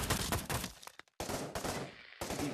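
Rapid automatic gunfire in the VR shooter Pavlov, loud dense bursts with a short silent gap around the one-second mark, then more sustained firing.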